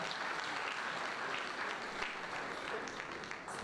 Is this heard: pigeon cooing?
no